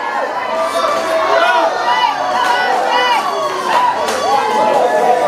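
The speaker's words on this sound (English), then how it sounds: "Everybody loud and cheer." Crowd cheering and shouting at a logging competition, a steady loud roar of many voices throughout with a commentator's voice over it.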